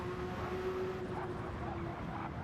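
Race car engine of the Rothmans Porsche in a Group C endurance racing video game at Le Mans, a steady sustained drone with a held whine, continuous and fairly even throughout.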